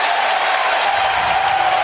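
Crowd at an LSU college baseball game cheering and applauding in the ninth inning, a steady, dense roar of clapping and voices with no break across the whole stretch.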